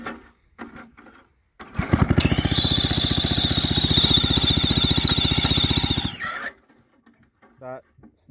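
Pull-cord gas engine on a sprayer fires up and runs at a loud, steady rapid chug for about four seconds, then cuts out, with brief handling noises before and after.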